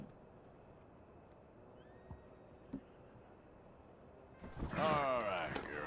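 A horse in Red Dead Redemption 2 gives a loud, wavering neigh near the end, preceded by quiet ambient game sound with a few soft clicks.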